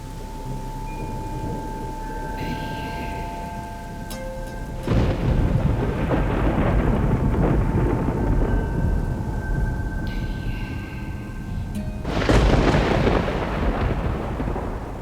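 Heavy rain falls steadily while thunder crashes loudly twice, each clap rolling on for several seconds before fading back into the downpour.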